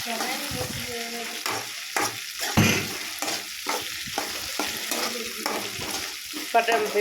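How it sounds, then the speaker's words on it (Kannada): Brinjal pieces sizzle and crackle steadily in a hot pan with salt, while a spatula stirs and scrapes in repeated strokes, close and fairly loud, with no voices. "ಸ್ವಲ್ಪ ಉಪ್ಪು ಹಾಕ್ಕೊಂಡು ಬದನೆಕಾಯಿ ಅದನ್ನು ಚೆನ್ನಾಗಿ ಫ್ರೈ ಮಾಡ್ಕೊಳ್ಳಿ"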